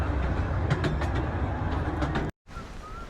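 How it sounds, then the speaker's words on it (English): A train rumbles past nearby at a lookout in Busselton, Western Australia, a steady loud roar with rattling clacks that cuts off abruptly near the end. "There goes the train."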